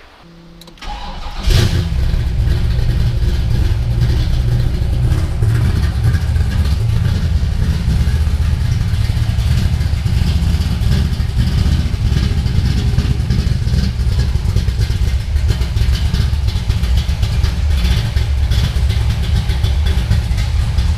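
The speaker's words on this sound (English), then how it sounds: "how about I do a quick startup on this car and you guys can hear what it sounds like" A 1969 Chevrolet Camaro engine cranks and catches about a second and a half in, then settles into a loud, steady idle with a deep rumble that carries on for about twenty seconds, with no voices.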